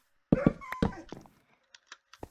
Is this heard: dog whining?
yes